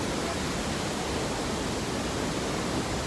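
Bopath Ella waterfall running strong and swollen after heavy rain, a steady, dense rushing roar that fills the whole clip without any break or voices.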